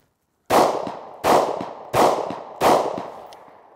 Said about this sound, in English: Four 9mm rounds.